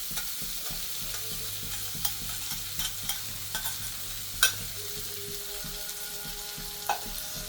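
Khoa (mawa) roasts in ghee in a pan for gundar pak. A steady close sizzle carries on throughout, with soft scraping stir strokes and a few sharper knocks, and no voices.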